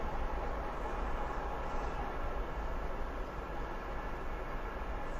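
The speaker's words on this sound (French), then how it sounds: "le bruit là va nous déranger parce que les trains passent" Trains pass nearby with a continuous, steady rumble and clatter that holds at an even loudness throughout, with no voices heard.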